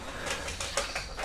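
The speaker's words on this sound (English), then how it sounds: "Whoa, that's a bird." A bird enemy in the co-op Mercenaries No Mercy mode of Resident Evil 6 Remastered on PS4 gives harsh, breathy cries in a few short bursts over a dense, steady wash of game noise.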